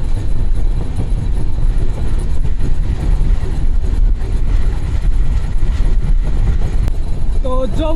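A train passes close by near the Jamuna bridge, a loud, steady rumble of wheels and carriages that fills the whole stretch, with a brief horn-like tone at the very end.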